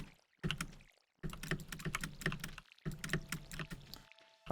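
Computer keyboard keys clatter in quick irregular bursts with brief pauses while playing a Stardew Valley speedrun, mostly movement keys plus a distinct spacebar, close and fairly loud with no talking.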